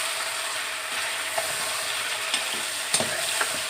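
Finely chopped tomato is stirred into potatoes in a hot pan, giving a steady sizzle with occasional scrapes and clicks of the spoon against the pan.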